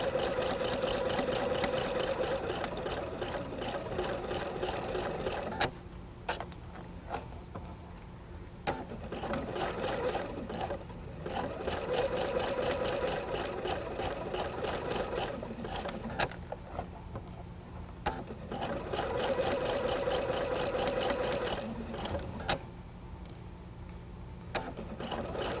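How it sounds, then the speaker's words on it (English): A sewing machine stitches fabric for quilting while a stiletto guides the cloth at the presser foot, a steady close mechanical whir with brief pauses and restarts throughout. "Guiding the fabric with the stiletto in front of the presser foot."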